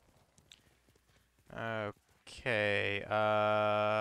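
In a video game, soft hoof clip-clops are followed by a loud, tonal horse whinny and a longer call that holds to the end.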